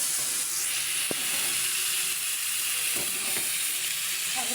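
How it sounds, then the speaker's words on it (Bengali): Food frying in a pan on a home stove gives a steady, even sizzle and hiss that fills the whole clip, with a couple of brief clinks of utensils partway through and no talking. "ভালো করে ভেজে নেব"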